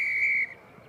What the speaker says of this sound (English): And the long whistle blow here.